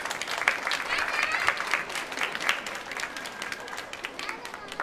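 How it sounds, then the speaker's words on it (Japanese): Crowd applause for a kids dance troupe at a live televised charity show, steady and full for several seconds with a host's voice talking over it. "大きな拍手をお送りください。"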